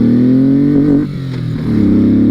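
Honda VTX1800R motorcycle accelerating hard under throttle, loud close engine tone rising in pitch, dipping briefly as it shifts, then climbing again.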